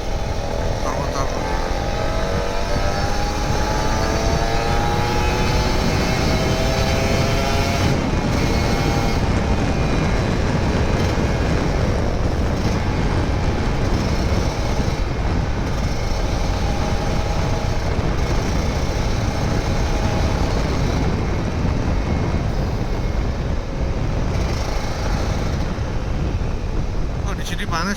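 A Kawasaki Ninja RR 150 engine drones steadily on a rainy Sunday morning ride, with heavy wind rush over the microphone throughout and occasional shifts in pitch as the revs change.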